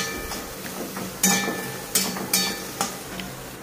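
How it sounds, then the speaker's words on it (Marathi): Two medium onions, sliced lengthwise, saute in a hot kadhai for dhaba-style matar paneer under a soft sizzle, broken by four or five sharp spatula clanks and scrapes against the pan. "कांदा चांगला लाल होईपर्यंत परतायचा।"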